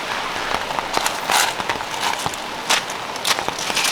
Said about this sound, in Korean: 비 졸라 와서 삼겹살, 쌈장 다 물바다 됐어요.